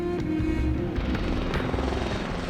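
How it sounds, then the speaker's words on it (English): A military helicopter drones steadily with a deep rotor thrum and engine whine, loud and continuous throughout, on a training exercise in Bosnia. "The helicopters use flares to deflect enemy heat-seeking missiles."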